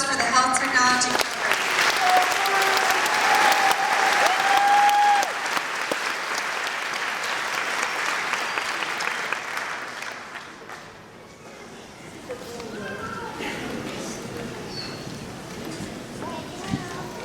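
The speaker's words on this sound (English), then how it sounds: "And a round of applause for the Health Technology program." Audience at a senior awards ceremony applauding for a health technology program, loud sustained clapping that slowly fades, with a voice speaking over it toward the end.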